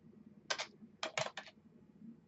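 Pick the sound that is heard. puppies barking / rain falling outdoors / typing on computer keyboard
typing on computer keyboard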